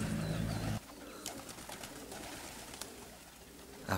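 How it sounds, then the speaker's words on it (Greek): Pigeons coo in a loft, with a low, close cooing at first giving way to quieter soft calls and scattered wing flutters and taps. "Όμορφα πουλάκια, έτοιμα για ζευγάρια"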